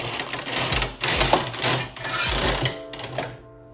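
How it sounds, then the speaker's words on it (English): A knitting machine carriage sweeps across the needle bed selecting needles for a cow print pattern, giving a near, loud run of mechanical clattering and ratcheting in several passes, with no talk. "you can see that the machine has selected the needles to start on the pattern."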